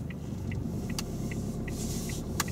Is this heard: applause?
no